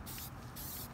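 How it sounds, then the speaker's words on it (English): Tire shine sprays from a simple aerosol can in a steady hiss, close and continuous, with two brief surges in intensity and no talking. "So, very simple aerosol can."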